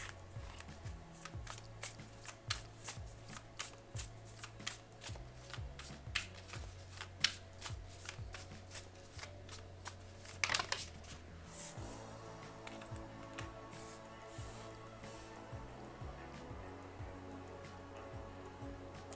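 Tarot cards are shuffled steadily and close by, a continuous crisp riffling and flicking with occasional sharper snaps, quiet and without talking.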